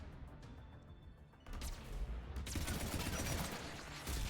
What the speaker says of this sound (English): That's a Geth turret.